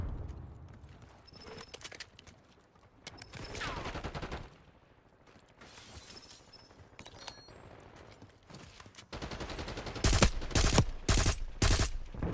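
Gunfire in the video game Black Ops 6, with bursts of automatic fire scattered through the scene and a dense, loud string of rapid shots near the end.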